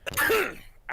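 A single sharp sneeze bursts out up close, followed by a brief quiet.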